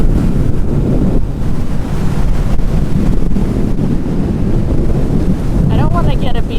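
A big, cold gust of wind roars across the microphone of a rider testing a Commander GT Pro, loud, steady buffeting throughout with no speech.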